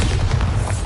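A Bombarda spell explosion in the Hogwarts Legacy video game, a single deep, rumbling boom that fills the short moment loudly and alone, with no voices.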